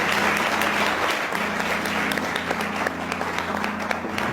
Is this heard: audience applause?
yes